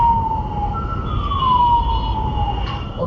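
An ambulance siren wails, rising and falling over steady traffic rumble, loud and fairly close on a street in India.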